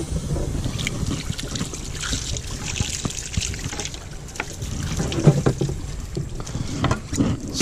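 Running water rinses a cleaned spot tail porgy, trickling and splashing unevenly in a continuous, moderately close wash with small knocks mixed in.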